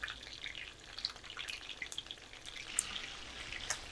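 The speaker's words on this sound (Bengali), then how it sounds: "এটা আমি আস্তে আস্তে করে সবগুলো চিকেন উল্টে পাল্টে ভেজে নেব।" Chicken pieces for chicken roast fry in hot oil, giving a steady, gentle sizzle dotted with small sharp pops and crackles throughout, fairly quiet and with no voices.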